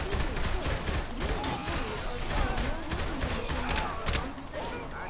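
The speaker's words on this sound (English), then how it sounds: "And the cops started shooting at him too." Rapid bursts of police gunfire in the video game Saints Row: The Third Remastered, dense overlapping shots crackling continuously at close range amid game noise, with a voice talking over it.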